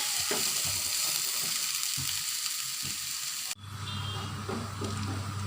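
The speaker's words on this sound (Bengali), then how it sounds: "দিয়ে এটাকে আমি নেড়ে চেড়ে হালকা ব্রাউন করে ভেজে নেব।" Chopped onions fry in oil in a pan while being stirred, a bright continuous sizzle with scraping and clicking stir strokes, then the hiss softens abruptly and a low hum takes over.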